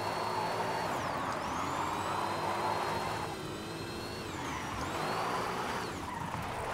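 An electric Forza Edition Mini in Forza Horizon 5 speeds along with a steady high whine that rises and dips as it shifts pace, accompanied by continuous road and wind rush, alone without talk.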